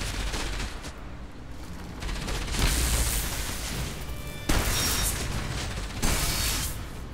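Stun-ammo weapon firing in Enslaved: Odyssey to the West, a run of sharp mechanical shots and bursts with clanking mechanisms, including a couple of strong distinct shots near the end, at moderate loudness.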